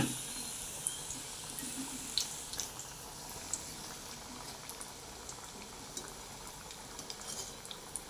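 Vada frying in hot oil, a soft continuous bubbling sizzle with small scattered pops and crackles throughout, fairly quiet and close, with no one talking.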